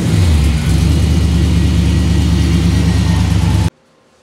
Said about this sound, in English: Let off a brake. Give it just a little bit of gas.